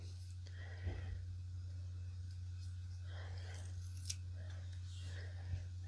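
Scissors snipping through paper-backed appliqué fabric, a few soft, close crisp cuts spaced apart over a steady low hum.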